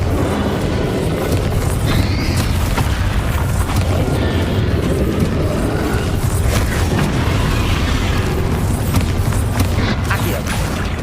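Repeated Bombarda blasting spell explosions in the game Hogwarts Legacy: a dense, continuous barrage of booming low rumbles and crackling bursts, loud and close, with mechanical clanks and a faint voice underneath.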